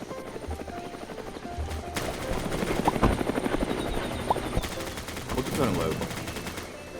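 A helicopter in the video game Roblox, heard as a steady loud rotor whir and thumping with rapid mechanical rattling throughout, and a brief vocal sound here and there.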